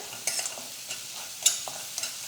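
A spoon scrapes through turmeric and salt in a frying masala tempering for vada pav potato filling, giving a few quiet, irregular stirring strokes over a faint sizzle, with no talk.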